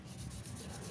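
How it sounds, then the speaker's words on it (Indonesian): Coarse sandpaper is rubbed by hand over a motorcycle front fork, a close steady rasping scrape with a faint back-and-forth pulse. "Kita gunakan amplas yang rada kasar dulu"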